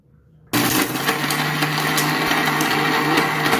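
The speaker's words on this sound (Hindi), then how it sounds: "और इसे मिक्सर में से पीस लीजिए।" A kitchen mixer grinder grinds a spice mix of cumin, jaggery and hing powder for stuffing chillies, kicking on abruptly with a loud, steady motor whine and rattling grind after a brief quiet moment.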